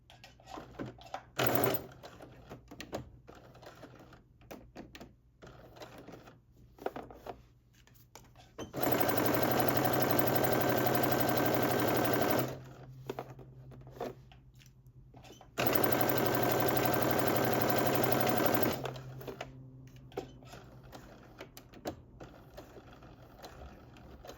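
A sewing machine sews a continuous stitch with a 1.5-inch seam allowance on a sweatsuit waistband, two loud, steady runs of several seconds each, separated by quieter handling noises.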